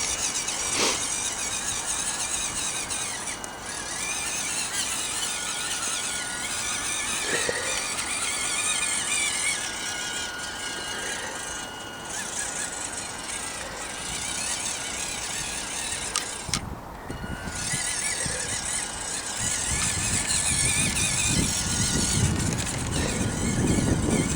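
A WPL C-14 RC truck driving steadily, a constant whining electric motor and gear drone with a shrill high squeal, close and loud throughout, rougher and louder in the last few seconds.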